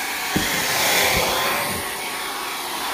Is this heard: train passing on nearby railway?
no